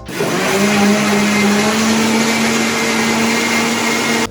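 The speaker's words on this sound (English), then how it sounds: "You don't need to blend it for too long, especially if you have a Vitamix." A Vitamix blender mixing punch whirs loudly and steadily for several seconds, its motor holding a constant pitch before cutting off abruptly.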